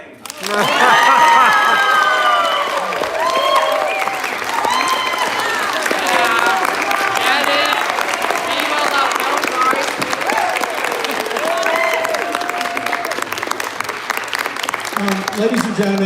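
A crowd at a student film awards ceremony claps and cheers, loud dense applause mixed with excited shouts and whoops from young voices that carries on throughout, gradually thinning slightly toward the end.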